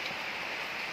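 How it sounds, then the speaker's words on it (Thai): Rain falls outdoors as a steady, even hiss of drops, soft and continuous with no voices over it. "ฝนตกครับฝนตก"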